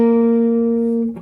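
Electric guitar playing part of a song's riff: a single clean, sustained note rings out loudly and fades toward the end, with no talking.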